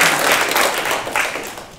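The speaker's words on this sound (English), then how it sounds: "Let's clap for that." A yoga instructors' conference audience claps together in a dense, steady burst of applause that holds for about two seconds, close and fairly loud throughout.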